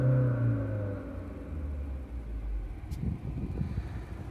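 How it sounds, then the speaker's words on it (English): Low diesel engine rumble from a Tata Nexon diesel heard from inside the cabin, a steady idle that swells into a rougher rev in the second half, moderately loud and with no talk over it. "Okay, I will rev the car. We are sitting in the diesel motor right now."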